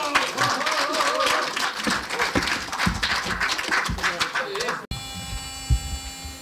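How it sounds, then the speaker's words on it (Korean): Audience at a Korean communication culture festival and founding assembly breaks into clapping while a voice talks over it. The applause is moderately loud, then cuts off abruptly, leaving a quiet hum. "다 같이 박수 부탁합니다"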